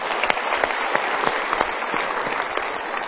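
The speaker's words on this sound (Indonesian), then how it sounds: "kita berikan tepuk tangan dulu" A room full of people at a talk clapping steadily, dense and continuous applause with no voices rising above it.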